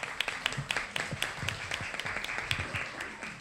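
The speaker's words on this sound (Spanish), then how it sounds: "Un aplauso." An audience at a migration and domestic work forum applauds a panel, a fairly soft, moderately distant patter of many hands with distinct claps standing out, steady for a few seconds.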